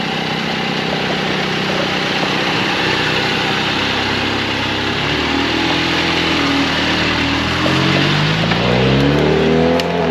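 A Mercedes-AMG A45 S with a Milltek exhaust and Stage 1 tune idles loudly nearby, then pulls away on a test run, its engine note rising in pitch toward the end.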